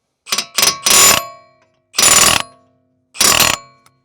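Three loud bursts of a Milwaukee M18 FUEL cordless air hammer knocking out a damaged wheel stud, each rapid knocking lasting under a second, with short pauses between them and no talking.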